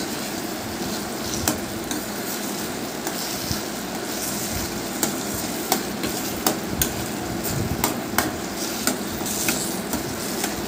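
Softened cooked tomato pieces being mashed in a pan of hot oil, with a steady low sizzle and irregular soft taps and squelches from the utensil throughout.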